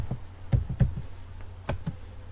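Typing a command on a computer keyboard, a handful of sharp, close keystrokes in uneven bursts with short pauses between them, over a faint low hum.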